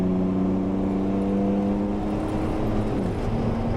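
A car engine hums loud and steady after the throttle is released, its drone sliding lower in pitch near the end as it eases off.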